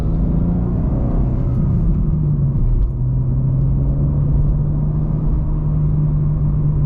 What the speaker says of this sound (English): I hear the exhaust open. You get those little burbles now.